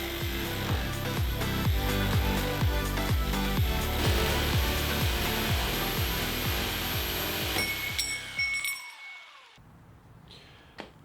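A saw blade slowly cuts through aluminum rods for motorized cosplay wings, making a dozen or so rhythmic back-and-forth strokes. The cutting then stops, leaving a faint clink and quiet.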